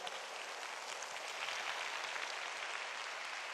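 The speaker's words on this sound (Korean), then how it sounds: "여러분 뜨거운 박수로 환영해 주시기 바랍니다." A church congregation applauds warmly to welcome a speaker at a healing service, a steady dense wash of clapping that holds at an even level throughout, with no voices over it.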